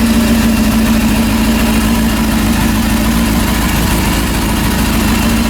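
A rebuilt Honda CB400 motorcycle engine runs at a steady idle close up, a loud, even, droning hum with a constant low throb and no change in pace throughout.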